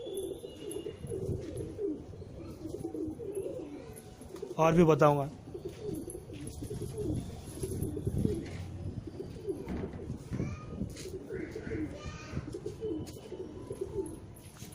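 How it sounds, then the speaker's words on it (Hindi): Soft pigeon cooing drifts in and out behind someone speaking, with a louder burst of cooing partway through and faint chirps around it. "ये देखिए, 7 कबूतर थे और 2-3 कबूतर मेरे पास अंदर है।"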